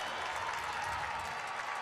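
A women's college basketball crowd at Cincinnati versus TCU applauds and murmurs after a blocked shot. It is a faint, steady wash of clapping and cheering heard from a distance throughout.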